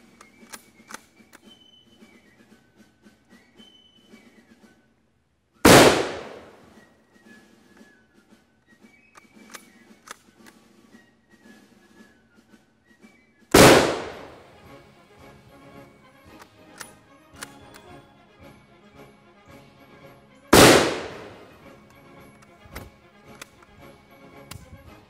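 Three loud, sharp gunshots from a bolt-action rifle chambered in 7.62x54 with a hex receiver, fired outdoors several seconds apart, each with a short decaying echo, between quiet gaps of faint clicks and handling noise.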